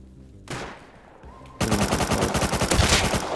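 AK rifle gunfire in the survival game Rust: a single shot, then a loud, rapid automatic burst of closely spaced cracks.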